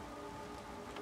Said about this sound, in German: Jetzt fängt es an zu regnen.